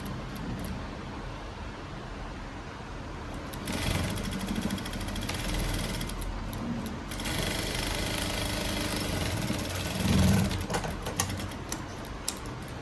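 A sewing machine stitches blouse fabric with a steady, close mechanical whir and rattle that runs unbroken for the whole stretch, with slight swells in loudness along the way.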